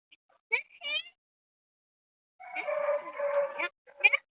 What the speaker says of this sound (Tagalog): Ang naririnig mo lang dito, tahol ng aso.